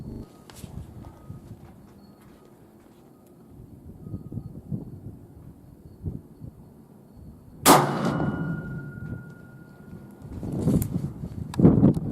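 A supersonic 6.5 Creedmoor round fired from a Ruger American Predator rifle fitted with a short-tube suppressor on a 3-lug adapter: one sharp loud crack with a ringing tail, followed by fainter outdoor clatter and knocks.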